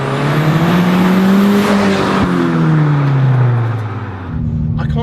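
A modified VW hot hatch on worn tyres with soft suspension pulls hard, its engine drone rising steadily in pitch, easing off and then climbing again, loud and close throughout.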